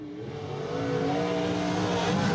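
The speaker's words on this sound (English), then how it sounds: "DJ's performance engine in his Masters Built GTO" The performance race engine of a Masters Built GTO at Wartburg Speedway roars steadily and builds in pitch as it accelerates, loud and close.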